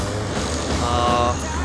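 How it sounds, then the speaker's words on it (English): Coaches and lorries race at high speed down a long straight highway in Tanzania, a dense, steady roar of heavy traffic that stays loud and close throughout with no pauses. "hundreds and hundreds of coaches and lorries, all travelling at astronomical speed down this huge straight highway"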